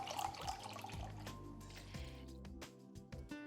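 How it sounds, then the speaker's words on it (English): Beef stock poured into a pan of vegetables and tomato paste, a close gurgling, bubbling liquid sound with wet splashes and drips that fades toward a faint sizzle. "We're also gonna add half a cup of beef stock or beef broth."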